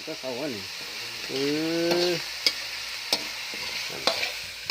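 A voice briefly speaks, then pad kra pao sizzles while being stir-fried in a pan, with occasional sharp scraping clicks of the utensil.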